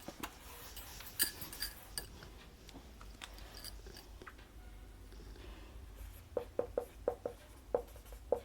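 Faint chalk or marker strokes on a classroom board during a lesson on vitamins, soft scratchy taps and short scrapes in irregular bursts, with a run of quick, sharper taps near the end.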